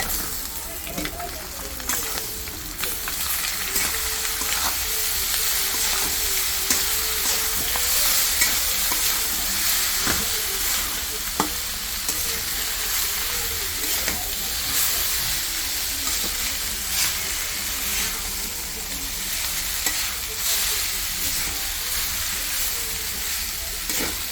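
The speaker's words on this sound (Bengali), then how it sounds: "আলুটা ভাজা হয়ে গেছে, এখন লুডুসটা দিয়ে দিলাম।" Noodles and fried potatoes sizzle steadily in hot oil while being stirred, a loud, continuous frying hiss with occasional scraping taps lasting throughout.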